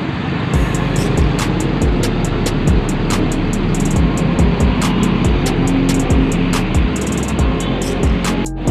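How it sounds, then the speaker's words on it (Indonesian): PO Haryanto buses entering the Grogol bus terminal, a loud steady engine drone with repeated sharp clicks and knocks, busy and continuous with no talk. "Bis artis semua yang masuk terminal Grogol hari ini."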